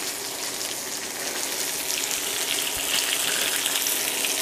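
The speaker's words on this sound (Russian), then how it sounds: "Рыбу жарят здесь на улице" Flounder fries in a pan outdoors, a loud, dense, continuous sizzle and crackle close by, with no talking over it.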